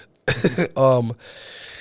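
A man on a podcast who has a cold gives a couple of close, loud coughs, then a short throat-clearing rasp and a quieter, breathy sniffle.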